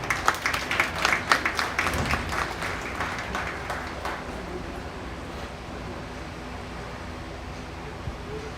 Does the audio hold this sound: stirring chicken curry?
no